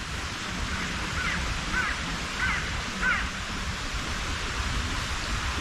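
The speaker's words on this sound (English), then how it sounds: "Crows are going nuts again." Crows cawing in a repeated series of four or five calls at steady intervals, carrying over a dark, pitch-black outdoor campsite at night against a constant loud wash of steady background noise.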